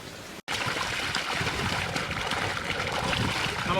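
Water runs from a tap into a vessel that will be used to cook rasam, making a continuous soft splashing and gushing hiss. It plays at moderate level after a brief cut near the start.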